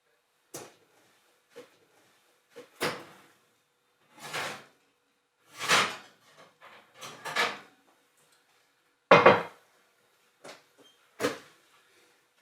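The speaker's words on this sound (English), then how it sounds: "Close the oven so you don't let heat out." An oven door is shut in a home kitchen after a Dutch oven goes in for no-knead bread, amid a series of separate wooden-sounding thumps and knocks spaced across a quiet background.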